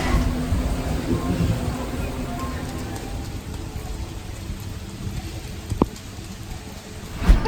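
Steady rain falls at Disney's Animal Kingdom, a constant wash of drops on surfaces with a sharper tap near the end. No one talks.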